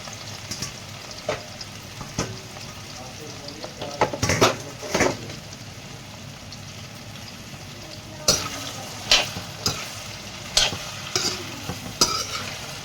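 Okra frying in hot oil in a home kitchen, with a steady sizzle broken by sharp spatula scrapes and clanks against the pan, clustered in bursts of stirring with quieter gaps between.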